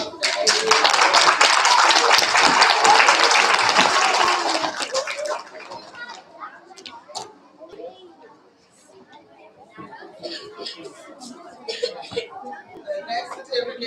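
Loud, dense clapping from a kindergarten and first-grade awards assembly crowd for about four seconds, then it fades into scattered claps, chatter and children's voices.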